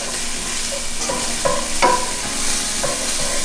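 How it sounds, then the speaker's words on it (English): A spoon stirs Keto Asian beef with liquid aminos in a hot pan, steady sizzling with a few scraping knocks over a few seconds, close and loud without speech. "So now I'm going to let Kai go ahead and stir the rest of that together."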